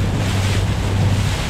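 Ocean waves washing onto the shore near Claver, Surigao del Norte, a steady close rush of surf mixed with heavy wind buffeting the microphone, with no voices.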